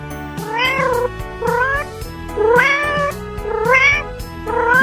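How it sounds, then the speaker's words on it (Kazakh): A cartoon cat meows about four times in drawn-out, rising cries, clear and close, over a soft, low backing tone. "Мысық."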